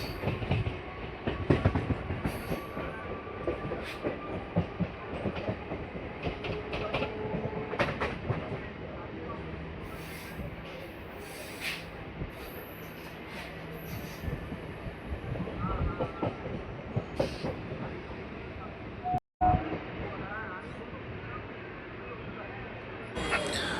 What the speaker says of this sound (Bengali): আমাদের ট্রেন ঢুকছে এবার গড়িফা স্টেশন